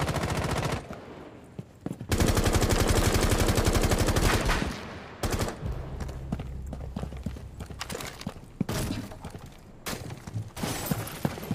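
Rapid bursts of FN FAL rifle fire in the video game Rainbow Six Siege, loud and close, with sharp repeated shots in clusters and short pauses between volleys.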